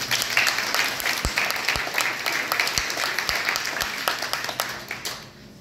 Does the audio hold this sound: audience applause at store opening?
yes